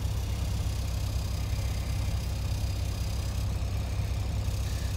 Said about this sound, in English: Please wait, APU starting.